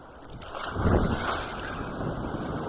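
Small motorboat crossing waves on clear open sea, a rushing wash of water and wind buffeting the microphone, swelling as the hull slaps through a big wave, with no talk.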